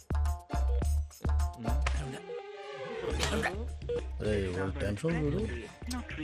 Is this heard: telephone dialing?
yes